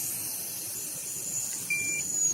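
A thin, high electronic breathalyzer beep sounds briefly near the end, over steady hiss and faint background noise.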